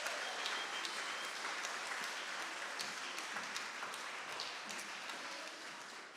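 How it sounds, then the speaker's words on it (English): A church congregation claps in sustained, even applause, a steady wash of many hands heard at a moderate distance that holds for several seconds and fades slightly at the end. "Let's give him one more round of applause."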